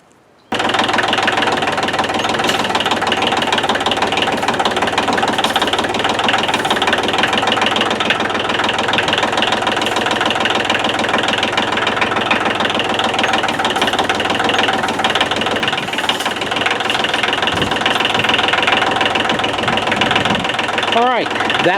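A machine engine runs loud and steady at close range while its bucket pulls a chained garden trellis loose from the ground, with knocking and strain throughout and a voice heard under the noise.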